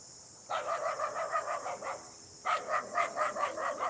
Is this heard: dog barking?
yes